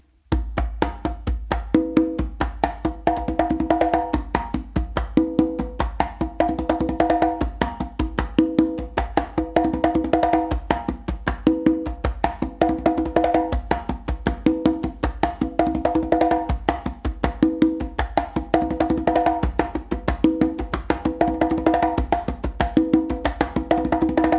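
A conga combination played on a single drum, with a steady, busy stream of hand strokes and repeating tonal accents in a tumbao-like groove, close and continuous with no talking.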